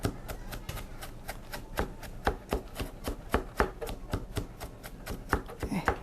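A knife finely mincing food on a cutting board for an egg-rolled rice lunchbox, a fast, even run of crisp chopping taps close up, steady throughout with no talk.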